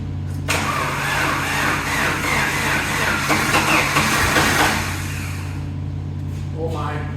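A Jeep YJ engine, sprayed with starting fluid, cranks and catches, running roughly and loudly up close before settling, with a voice talking over it.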